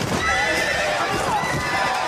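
Horses gallop in a rush of hooves in The Mummy (1999) film soundtrack, with a whinny rising over the clattering, close and loud throughout.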